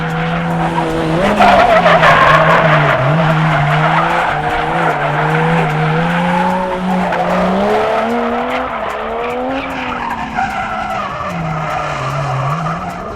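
A 1989 Nissan 240SX drift car slides through a run with sustained, loud tire squeal over a wavering, revving engine drone, the pitch rising and falling with throttle changes throughout.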